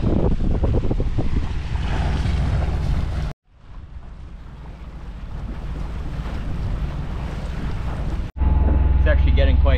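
Strong wind and waves around a motoring boat, heavy buffeting roar with a rushing water wash, loud and continuous apart from two abrupt dropouts, with no talk.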